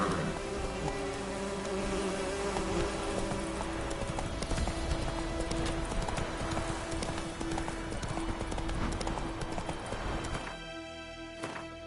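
Roach the horse gallops in The Witcher, a brisk, continuous clip-clop of hooves close up with buzzing ambience behind, thinning out near the end.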